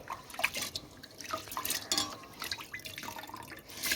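Rice is washed under running water in a kitchen sink, with trickling and splashing water, irregular drips and light clinks of a vessel, close but fairly soft, no voices.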